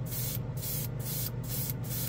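An airbrush sprays Odenkan metallic paint in a steady hiss that pulses rhythmically about every half second as the trigger is worked, fairly quiet and close, with no voices.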